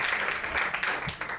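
Studio audience applause at a Spanish comedy show, moderately loud and steady with a few sharper individual claps standing out.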